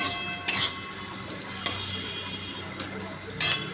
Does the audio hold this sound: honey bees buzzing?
no